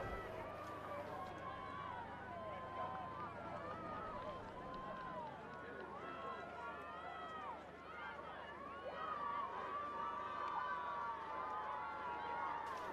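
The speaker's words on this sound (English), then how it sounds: "the roar of the crowd around us is absolutely deafening" A crowd of rowing club supporters roars around the lakeside course at a junior and senior club championship regatta, a dense sustained wall of cheering and shouting that stays loud and close throughout.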